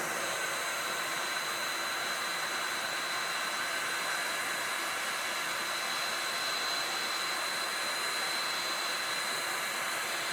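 A hot heat gun blows onto wood treated with ammonium chloride for etching, producing a constant loud hiss of rushing air with a thin whine that lasts throughout, with no talking.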